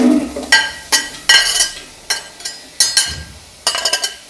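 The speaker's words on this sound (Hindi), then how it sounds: "सबसे पहले इसमें हम प्याज फ्राई करेंगे।" Sliced onions are stirred in about half a kilo of hot oil for chicken haleem, with repeated metal spoon scrapes and clinks against the pan over a soft sizzle.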